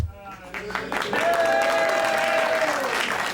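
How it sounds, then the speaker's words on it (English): A 1980s television studio audience at a wrestling talk show breaks into loud, sustained applause that swells and holds, with a voice ringing over it. "They're applauding."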